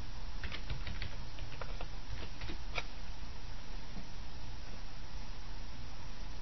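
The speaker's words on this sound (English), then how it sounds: "And she's typing a message." Quick bursts of light clicking keystrokes on a keyboard over a steady hiss, then the typing stops and only faint background noise remains.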